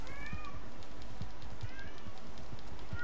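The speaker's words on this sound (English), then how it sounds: "Sorry about my cat screaming in the background." A house cat meows loudly several times in the background, its cries rising and falling over a low steady hum, with no voices.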